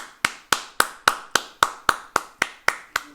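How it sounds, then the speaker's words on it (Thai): Evenly spaced single claps, about eleven sharp, close hand claps in a steady rhythm, heard at the Cannes 2022 premiere of Top Gun: Maverick, with no talking. "ลุกขึ้นปรบมือ ทุกคนนะ stand up"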